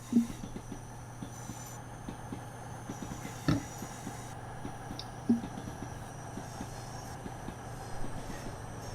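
A First Great Western express train pulls in at a station near Reading in Train Sim World 6, with a steady low rumble, hiss and rhythmic wheel clicks over track joints, plus a few sharper clanks, fairly quiet throughout.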